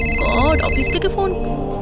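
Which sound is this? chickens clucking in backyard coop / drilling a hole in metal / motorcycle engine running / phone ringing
phone ringing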